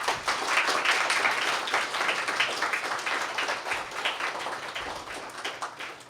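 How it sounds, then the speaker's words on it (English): Applause from a luncheon audience thanking program participants: a steady wash of many hands clapping at once, moderately loud and unbroken for several seconds, with no voices standing out. "So give yourselves a round of applause."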